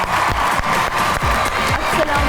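Audience applause welcoming poet Ikram Arfi to the stage at a mushaira: a loud, steady wash of clapping and crowd noise with rhythmic claps standing out, continuous throughout.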